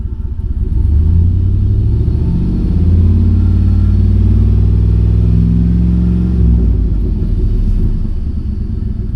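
A GMC 2500 HD pickup's engine turns over and settles into a loud, close, deep running rumble that swells slightly, with no talking over it.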